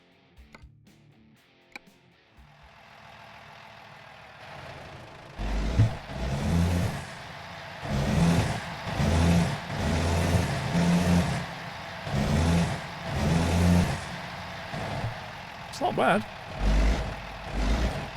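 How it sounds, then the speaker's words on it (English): A Kenworth T680 truck engine in American Truck Simulator idles and then revs repeatedly in pulsing surges, loud and close, with a brief spoken remark. "it has new engine sounds for F-mod"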